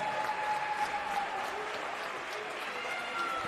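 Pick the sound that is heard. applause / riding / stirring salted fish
applause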